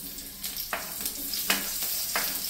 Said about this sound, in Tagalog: mainit na nga po yung mantika, ilagay na natin yung bawang